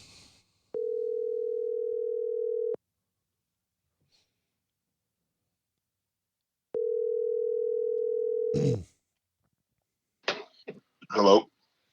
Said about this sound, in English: Should we try and get Big Julius on the phone?